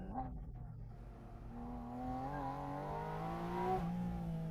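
Porsche engine revving hard under load while driving through curves, rising harmonic tones climbing steadily toward the rev limiter, loud and continuous with a brief downshift near the end.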